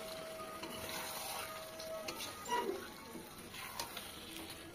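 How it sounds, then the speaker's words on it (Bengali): Chicken pieces go into spiced masala frying in oil for a chicken curry, bringing a faint, steady sizzle with a brief louder burst of crackling partway through. "এখন আমি চিকেনটা দিয়ে দিচ্ছি"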